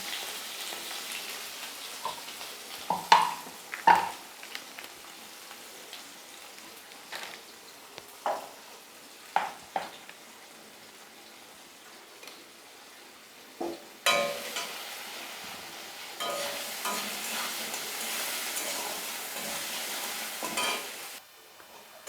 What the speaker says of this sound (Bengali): প্রথমে আমি আলুগুলোকে নুন হলুদ দিয়ে ভেজে নেব